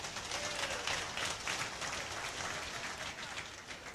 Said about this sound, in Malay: Kita beri tepukan gemuruh.